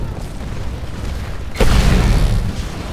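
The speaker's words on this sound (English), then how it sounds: "Enjoy your nuclear explosion you earned." A nuclear explosion in the Titanfall video game goes off at about the midpoint: a sudden, loud, deep boom that jumps out of a low rumbling background. The dense, rolling rumble carries on to the end.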